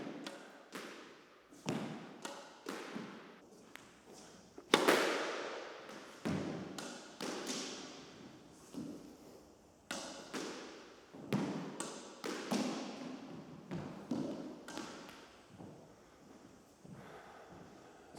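A squash ball struck repeatedly during solo court practice, rallying off the front and side walls with boasts and straight drives, each hit a sharp close thwack followed by echoing bounces in a steady, uneven rhythm, with no talk.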